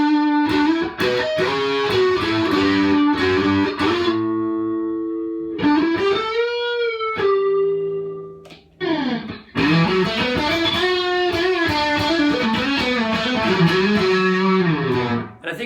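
Distorted electric guitar through a Seymour Duncan SH-4 humbucker fitted in a Squier Stratocaster, loud sustained chords and single-note lines with bends, played alone without talk.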